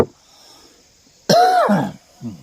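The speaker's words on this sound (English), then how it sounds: "That gunpowder is making me cough." Someone coughs up close from gunpowder smoke while shooting: one harsh, raspy burst followed by a smaller cough, against a faint hum.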